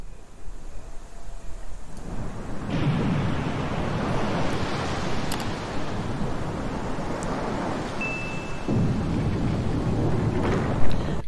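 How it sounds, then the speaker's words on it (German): Water drains away in the Resident Evil HD Remaster video game, a loud, broad rushing and gushing that swells in after a quiet start and roars on steadily for several seconds, with a brief high tone partway through. "Das Wasser wurde abgelassen"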